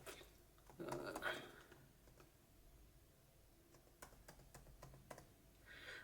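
Soft, scattered key clicks from a computer keyboard as a password is typed, faint and irregular over a quiet room background.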